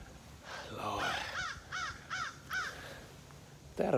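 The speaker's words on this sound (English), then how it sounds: "there's a crow up there" A crow caws outdoors, with several distinct harsh calls spaced about half a second apart, moderately near over faint background noise.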